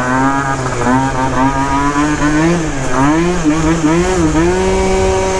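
A Phantom F12 scooter engine fitted with a J.Costa variator drones loud and close, its pitch sagging and wavering as power drops, then climbing again after a shift, with no voice over it.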